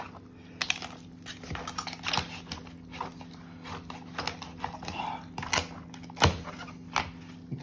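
A kitchen knife chops through the backbone of a raw Thanksgiving turkey on a cutting board, giving a series of sharp crunching cracks and knocks at uneven intervals, with one loud snap near the end.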